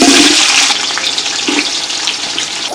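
Onions tipped into hot oil where mustard seeds have already popped, giving a loud, close burst of hissing sizzle that eases slightly and keeps crackling steadily.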